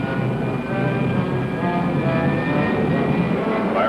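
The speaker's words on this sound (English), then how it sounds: "Fire pilot jet." Roaring jet-like engine thrust of a rocket pilot jet firing, a steady loud rushing drone holding constant throughout with no break or pause.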